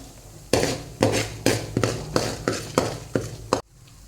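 Whole spices (cinnamon, cloves, cardamom) being roasted in a pan for vangibath: a close run of about eight sharp, evenly spaced scraping stirs of a spatula against the metal pan, each followed by a brief sizzle, then stopping abruptly.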